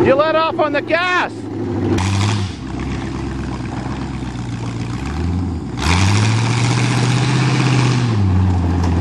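Cheviac truck engine revving hard as it climbs a steep hill on a farm, a loud mid-pitched roar that rises and drops with throttle changes, with excited voices shouting over it at the start.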